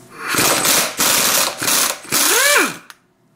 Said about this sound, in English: I open those final bolts